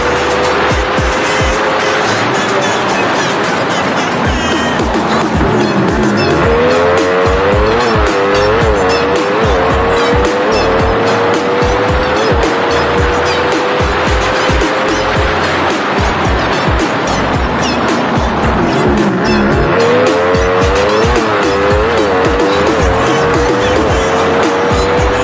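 Honda RS and Suzuki Raider FI pure-stock motorcycles race, engines droning steadily and loud throughout with rising and falling pitch sweeps as riders shift and pass, no voices.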